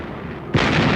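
Artillery of the US Fifth Army and guns of Allied warships firing at Salerno: a sudden loud, broad blast lands midway and rolls on as a sustained roar to the end.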